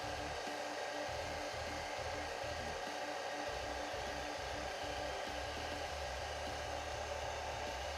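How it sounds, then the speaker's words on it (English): An old, broken hair dryer used as a heater runs continuously at close range, a steady airy whoosh with an underlying motor whine and a low, uneven pulsing rumble. "Guess I can try to hit it with this old broken old heater hair dryer"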